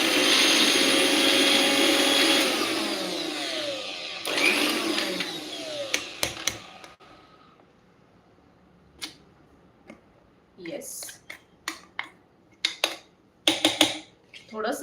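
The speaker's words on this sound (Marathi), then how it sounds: "हे आता मिक्सरला व्यवस्थित वाटून घेऊयात" A kitchen mixer grinder whirs loudly as it grinds fasting-style chutney, a steady whine that winds down after about six seconds, followed by clinks and clatter of the jar and utensils.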